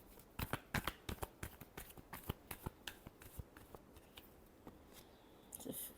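A deck of tarot cards is shuffled by hand up close, giving a series of quick crisp riffling snaps and flicks in an irregular rhythm, fairly quiet, with a brief louder burst near the end.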